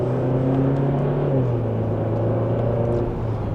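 A 2026 Kia K5 GT accelerating in sport mode in second gear produces a steady, moderately loud engine drone whose pitch dips slightly midway, then holds, with no talk heard.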